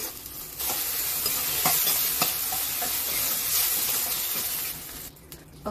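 Onions, tomato and masala frying in a pan for green chilli chicken gravy give a dense, loud sizzle with occasional spoon clicks as they are stirred, then the hiss drops away near the end; no voices.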